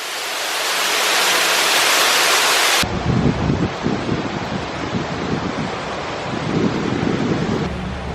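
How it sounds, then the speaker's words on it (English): A loud, steady roar of rushing water, like a nearby waterfall, fills the scene, then shifts to a rougher churning texture partway through. "And we're right near the waterfall."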